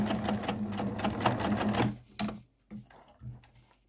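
A sewing machine stitches a seam in fabric with a fast, steady mechanical rattle for about two seconds, then stops, leaving a few short bursts and clicks as it sews briefly again.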